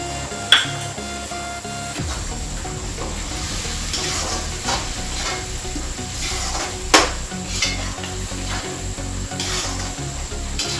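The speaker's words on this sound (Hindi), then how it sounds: "मसाला को इस तरह से ऐसे भून के तैयार करेंगे।" Spice masala with chili powder roasts in hot oil in a pan, giving a steady close sizzle broken by scraping stirs and a couple of sharp utensil knocks against the pan, with no voices.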